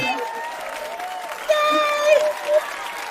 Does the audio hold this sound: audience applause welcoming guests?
yes